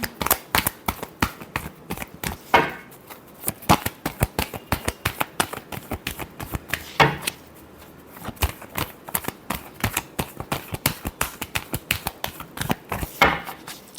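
A deck of tarot cards being shuffled close by, with rapid riffling flutters in repeated bursts and short pauses between rounds, steady and fairly loud with no talking.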